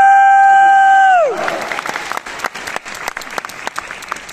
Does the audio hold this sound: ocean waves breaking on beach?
no